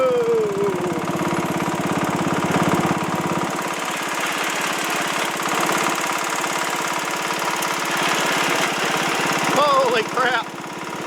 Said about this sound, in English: I can kick the lawnmower in neutral and go down the hill